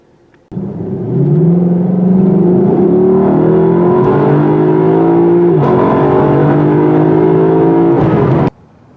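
A 2020 Lexus LC500 with a V8 engine drives at speed, a loud, close, sustained engine drone that rises in pitch through the gears for several seconds before cutting off.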